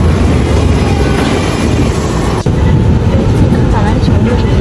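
Loud, steady rumble of a Beijing subway Line 2 train pulling into a station, heard from inside the carriage, with a constant roar and a brief dip midway.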